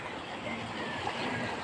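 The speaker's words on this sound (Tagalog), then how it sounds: "ito yung ilog ng Barangay Capri o. Maingay ang alon." River in Barangay Capri flowing with a steady, noisy rush of water, close and continuous with no breaks.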